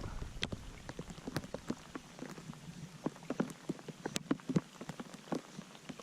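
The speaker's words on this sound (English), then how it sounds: "it's raining a little bit." Light rain at a pond: scattered raindrops tap irregularly on a hard surface, sparse and close, with a soft steady patter underneath and no voices.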